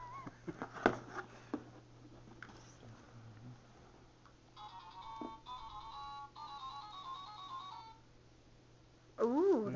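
A telephone rings indoors, with a few bursts of electronic ring tone in the middle of the clip. Background household noise and brief voices come before it, and a person speaks loudly near the end.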